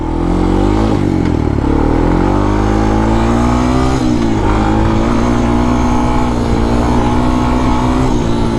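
A Honda TRX 250X sport ATV engine runs loud and close on a trail in third gear, its drone rising and falling steadily as the throttle spools up, with no talk over it.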